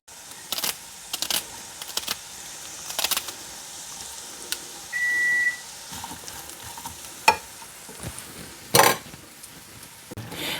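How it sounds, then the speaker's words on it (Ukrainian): Onion stewing with homemade sour cream for zazharka in a pan, a faint sizzle broken by sharp utensil clicks and brief clatters, with no talking. "Зараз ми робимо зажарку."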